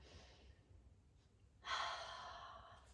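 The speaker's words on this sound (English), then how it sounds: "Maybe exhale through a mouth, open mouth. A little cleansing breath." Open-mouthed cleansing exhale during a chair yoga session, one close, breathy rush of air that starts suddenly and trails off over about a second, soft and unaccompanied by talk.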